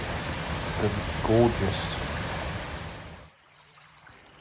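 Small waterfall spilling over a weir in a stream among Shropshire fields, a steady broadband rush of water that drops away near the end, with someone talking over it.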